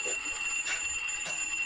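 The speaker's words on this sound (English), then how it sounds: "I must have forgot that alarm." A faint alarm clock rings in repeated short beeping bursts through a quiet room during a classroom lesson on joint military education.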